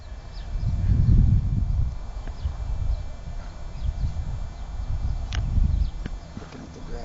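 Nurse mare foals moving about on grass outdoors, their hooves landing as soft, muffled thuds over a steady low rumble of wind, with a few faint knocks and occasional faint voices in the background.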